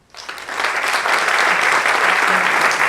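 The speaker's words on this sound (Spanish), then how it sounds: "Con lo cual yo os pido un fuerte aplauso para don Manuel Borges." A theatre audience at a festival proclamation breaks into applause, rising quickly from near silence into loud, sustained clapping that continues to the end.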